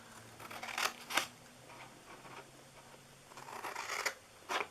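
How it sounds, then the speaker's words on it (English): Scissors snip the tops off while a flowering gift box is assembled: a few crisp, quiet cuts spaced apart, with soft handling rustle between them and no talking. "And then we're going to cut those tops off there."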